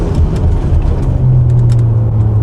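A 400 hp hybrid-turbo Honda Accord wagon is driven hard through corners, its engine rumbling loudly under road and wind roar. The tone swells into a steadier, higher hum midway as the car pulls through the bend.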